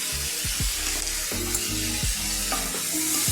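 Poppy seed paste sautés in a pan with a steady close sizzle, punctuated by rhythmic spatula scrapes and stirring strokes.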